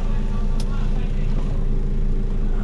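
Steady low diesel rumble of an Iveco S-Way 480 truck idling and moving slowly in reverse, heard close from the cab at constant loudness, with a brief faint high click.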